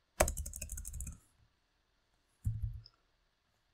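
Typing on a computer keyboard comes as a fast, close burst of clicking keystrokes lasting about a second. A shorter cluster of key presses follows after a pause, in an otherwise quiet room.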